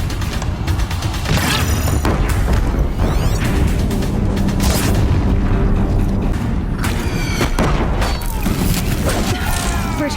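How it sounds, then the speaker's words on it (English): In Horizon Zero Dawn, Deathbringer machines pound a bridge with heavy gunfire, producing dense, relentless booms, crashes and metallic impacts that overlap without pause. "If the Deathbringers keep firing, this bridge will go."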